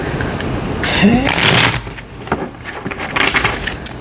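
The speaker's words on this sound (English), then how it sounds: "2 more decks to shuffle" Tarot cards are riffled and shuffled close by in a brisk, papery flurry, followed by lighter shuffling and handling of the deck.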